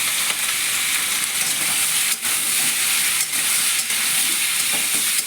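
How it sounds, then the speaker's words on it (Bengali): Mourala fish with vegetables, salt and turmeric frying in a pan while being stirred and turned, giving a loud, steady close sizzle with scraping stir strokes and no talking. "এখন নাড়াচাড়া করতে হবে। দেখুন ঠিক এইভাবে উলট করতে হবে।"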